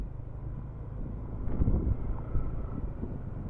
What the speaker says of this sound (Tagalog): Presko ng hangin kahit mainit.